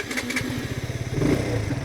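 A KTM RC 125 motorcycle being ridden, its small single-cylinder engine chugging in a steady pulsing rhythm with wind rush, close and loud, the note rising slightly toward the end.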